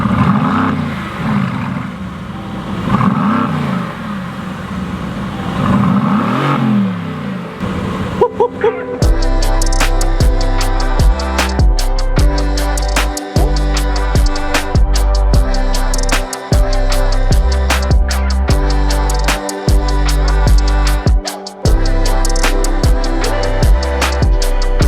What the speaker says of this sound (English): Let's hear the exhaust, because it would be a shame not to do that.